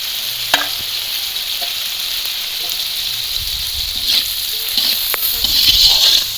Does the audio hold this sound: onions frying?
yes